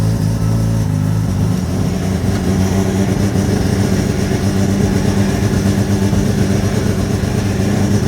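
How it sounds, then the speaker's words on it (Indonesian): A rotary-engine car drives along a road, its engine giving a steady, loud, buzzing drone with constant road rumble throughout and no voices. "Sekarang gua mau coba mobil ini ke jalan raya."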